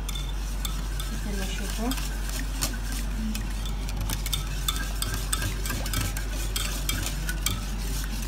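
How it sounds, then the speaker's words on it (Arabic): A spoon works through a sauce mixture for chicken, a steady scraping stir with light clinks against the dish over constant background hum, and a voice speaks briefly. "هسه راح اخبط الخلطة مالتي"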